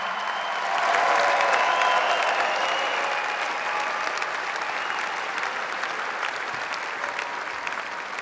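Loud, sustained applause from a large audience at a high school graduation, a dense wash of clapping that swells early and slowly tapers.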